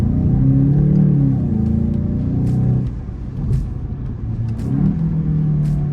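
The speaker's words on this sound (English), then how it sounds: "time for a little pull in this Golf GTI" A Volkswagen Golf GTI with a dual-clutch transmission accelerating hard, engine note climbing loudly through a gear, dropping briefly at a shift, then pulling strongly again, heard from inside the car without talk.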